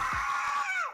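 A woman lets out a short, high-pitched scream that bends downward at the end, loud against a quiet background.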